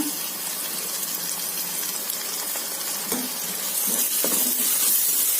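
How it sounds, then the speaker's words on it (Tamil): Ginger garlic paste, two spoons, sizzling and frying steadily in a pan of softened onions for coconut milk biryani, a continuous close hiss with faint stirring clatter, growing slightly louder toward the end. "இஞ்சி பூண்டு பேஸ்ட்டு ரெண்டு ஸ்பூன் சேர்த்துக்கிறேங்க"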